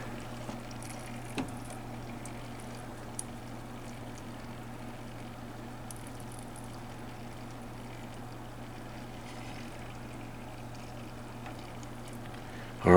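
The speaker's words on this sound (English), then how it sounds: "I can hear just a faint gurgling, nowhere near the sound we had or the noise we had." Faint, steady gurgling and hum from a failing NZXT Kraken M22 AIO liquid cooler pump, a low continuous drone with occasional tiny clicks, heard alone at low level.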